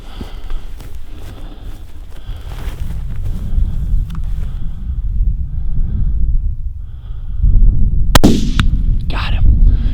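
A hunting rifle fires once at an antelope buck on open South Dakota prairie, a sharp single crack near the end amid wind noise and low rumble, with no talk.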